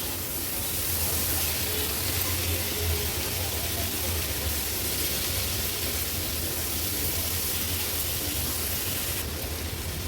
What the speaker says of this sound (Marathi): मसाल्यामध्ये कोलब्या व्यवस्थित परतून घेतल्या